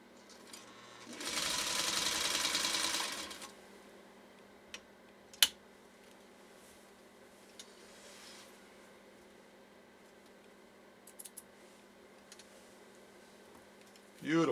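A 1952 Singer 301 sewing machine runs in one steady, fairly loud burst of rapid stitching lasting about two seconds, then stops, leaving quiet room tone with a few small clicks and a faint voice.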